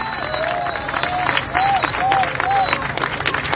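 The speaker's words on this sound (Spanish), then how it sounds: "vamos a dar un aplauso muy fuerte." Audience applause at a Buenos Aires cultural gathering protesting a cultural blackout, dense clapping sustained for several seconds at moderate level, with whistles or cheering tones rising above it and voices mixed in.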